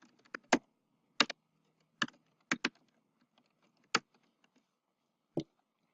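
Login details typed on a computer keyboard, a handful of quiet, sharp key clicks in short irregular bursts with pauses between.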